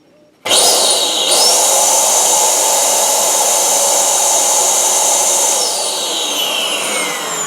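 A Dyson DC07 vacuum cleaner motor switches on with a sudden loud onset and settles into a steady, full whirring roar that runs close and alone, with no talking.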